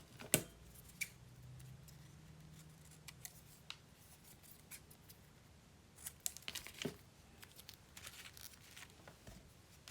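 Scissors snip through a beverage bag in a few crisp, close cuts with light crinkling of the material between them, quiet and without talk.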